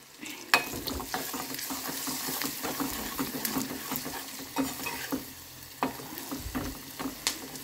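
Onions sizzling in a hot pan for a simple home curry, with steady frying hiss under repeated scraping and stirring strokes, close and moderately loud.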